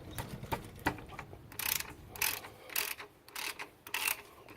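Ratchet wrench working a left-hand thread bolt on the tensioner pulley of a 1995 VS Holden Statesman, a series of close clicking ratchet bursts in a steady rhythm, fairly quiet.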